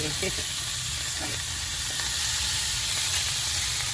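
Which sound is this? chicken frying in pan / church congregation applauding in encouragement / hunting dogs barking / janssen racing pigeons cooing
chicken frying in pan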